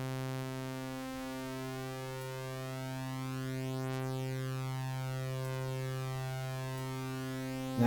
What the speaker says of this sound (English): Now you can hear those almost flange-like sounds, and we've got some like wonderful stereo panning going on.